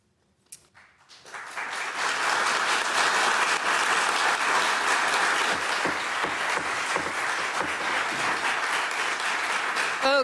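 Audience applause breaks out in a city council chamber, building in the first two seconds into loud, sustained clapping from a sizeable crowd that holds steady to the end.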